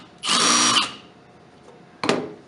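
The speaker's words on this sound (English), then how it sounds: "set your drill on its weakest and on its slowest. So put the pan head screw in" Drill set slow and weak driving a pan head screw into wood: a short whirring burst followed by a brief second spurt, close and loud with no talk.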